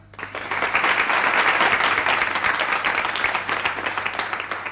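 Audience in a hall breaks into applause for an Alif Noon stage program event, a dense, loud wash of many hands clapping that swells quickly and holds steady, tapering slightly toward the end without talk.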